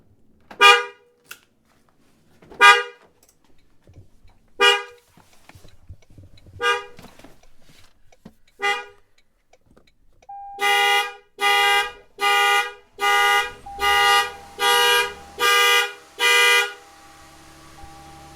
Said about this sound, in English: once the vehicle was started for a few seconds, the alarm went off